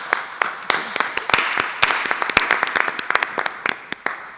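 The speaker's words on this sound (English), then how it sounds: "Azola Ecosystems, a round of applause." Audience applause at an entrepreneurship pitch day, a dense spread of many hands clapping with sharp individual claps standing out, fairly loud and close, after a startup's pitch.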